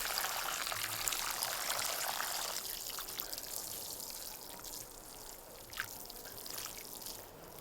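Water is poured steadily into a vertical growing bag filled with soil and stones, a soft continuous trickling and streaming that eases slightly toward the end, with no one talking.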